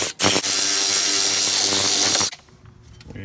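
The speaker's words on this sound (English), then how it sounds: "We're going to take our angle impact," Angle impact wrench driving a strut bolt out of a Pontiac G8 spindle, one sustained loud high-pitched hammering whir for about two seconds after a brief blip, then cutting off to quiet workshop rattles.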